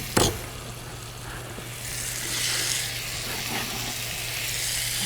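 Garlic and onion fry in hot oil, a steady close hiss and crackle that swells slightly after a brief knock at the start, with no talking.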